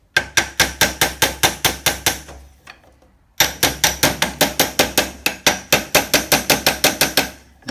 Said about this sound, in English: I just take a hammer,